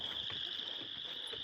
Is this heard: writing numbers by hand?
no